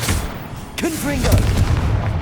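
A single sharp fire-spell blast from a Confringo cast in Hogwarts Legacy, a loud boom followed by lingering rumble and creature shrieks.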